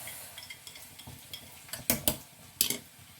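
Bitter melon pieces being stirred with salt, red chili powder and cumin seeds in a pan, giving a few soft scrapes and sharper utensil clinks, fairly quiet, with no talk.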